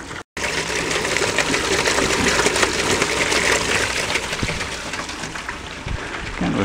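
Water pours steadily out the bottom of a flooded, broken system, a constant close gushing rush that keeps going without a break and with no talking.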